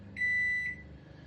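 A Daewoo microwave oven with a fault sounds an error beep: one steady high electronic tone held for about half a second, close and clear, then a brief second chirp, with no talking.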